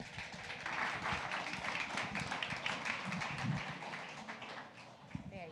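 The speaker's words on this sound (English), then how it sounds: "Round of applause for Deanne." A crowd at a local business talk event in a Bend, Oregon pub applauds steadily, a dense wash of many hands clapping that holds for several seconds before tapering slightly near the end.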